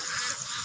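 White Pekin ducks honk and quack in a dense, continuous chorus while being herded onto a motor cart, with the calls overlapping steadily and close by throughout.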